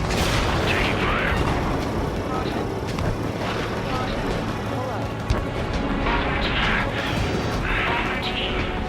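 Dense, continuous gunfire and explosions roar in the Ace Combat 7 jet combat game, loud and unbroken with jet engine rumble throughout and occasional heavier booms.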